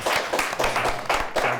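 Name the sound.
audience applauding the winning quiz team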